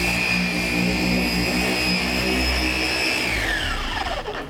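Porter Cable 7424XP dual-action polisher running continuously on a car panel, a loud steady high whine that winds down in pitch as the machine slows at the end.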